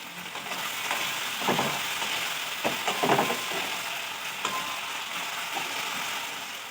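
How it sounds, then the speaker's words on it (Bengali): Potatoes frying in hot oil in a wok make a loud, continuous close sizzle, with scraping stirring strokes rising and falling throughout and no talk. "এবার আলুটা ভাজা হোক,"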